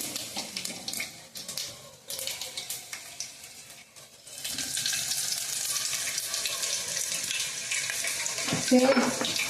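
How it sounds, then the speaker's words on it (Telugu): Cumin seeds, chana dal, urad dal and mustard seeds tempering in hot oil: a steady sizzle with crackling spurts, broken early on by handling noises, then a louder continuous fry from midway with a brief sharp burst near the end. "జీలకర్ర, పచ్చెనపప్పు, మినపప్పు, తర్వాత ఆవాలు వేసి అయితే తాలింపు వేస్తున్నాను."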